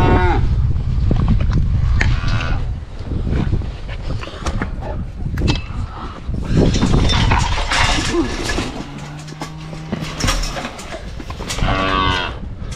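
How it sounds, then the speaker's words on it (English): Cattle in a farm pen moo loudly and repeatedly, close by, with wind buffeting the microphone and faint engine and movement noise; no one talks. "let's go out there and get these cattle, make sure they're in the pens before we put them in the trailer"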